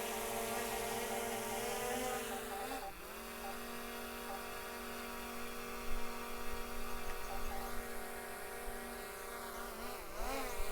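A DJI Mini 3 Pro drone hovering very close, a loud steady buzzing whine with layered harmonic tones that dip and rise twice as the motors change speed.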